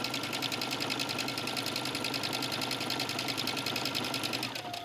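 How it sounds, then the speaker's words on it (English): A sewing machine top stitches along the edge of a trench coat, its rapid steady needle rhythm running continuously and close up. "now I'm gonna stitch to the edge"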